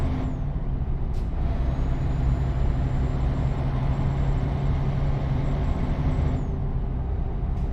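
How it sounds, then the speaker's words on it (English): Truck air brakes hissing in Euro Truck Simulator 2, a long steady pneumatic hiss that starts abruptly and holds for several seconds over a constant low engine rumble, then cuts off. "Yeah, I'm using the brake too much."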